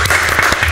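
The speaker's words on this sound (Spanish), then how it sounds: "¡Un aplauso, chicos!" Short, loud burst of studio audience applause on a retro-themed Mexican comedy TV program welcoming a guest, dense clapping filling the brief moment with no voices.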